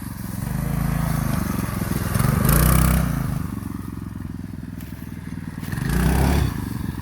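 Manco Fat Cat minibike engine droning steadily as it's ridden up steep hills doing wheelies, with rising revs and surges around the middle and end, close and loud with rough clatter.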